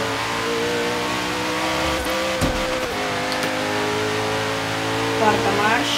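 A car in Forza Horizon accelerates hard through the gears on a rainy track. The steady engine roar climbs in pitch with each shift and carries under a voice.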